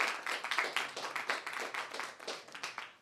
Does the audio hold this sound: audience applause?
yes